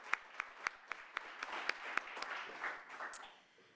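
Sparse, evenly spaced claps from a few hands at a university awards ceremony honoring alumni, faint and fading into a quiet room murmur after about three seconds.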